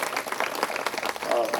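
Many hands clap in a dense, continuous burst as a crowd honours a guest with a shawl at an Ayyappa mandal dhyana ceremony, with someone talking over the applause.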